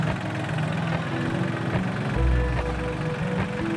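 A farm tractor engine runs steadily at a low idle, a rumbling drone with faint knocking vibration and a brief deeper surge midway, close by and without talk.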